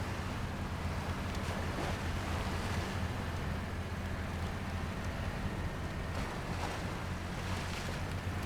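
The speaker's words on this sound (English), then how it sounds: "They need to fix that splashing sound." An off-road truck in the driving game SnowRunner churns through water, giving a steady, rushing splash and surf-like wash that carries evenly for over eight seconds at a moderate level, with no talking.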